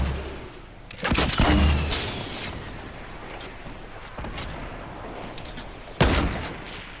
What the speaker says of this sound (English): Got shot at.